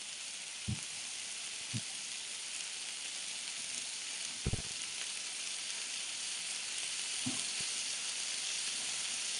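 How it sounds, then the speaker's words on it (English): Ukrainian kotlety meat patties pan-frying, a soft steady sizzle throughout with a few sharp taps and clicks of turning the patties, fairly quiet and close, no talking. "Flip them around and let both sides cook."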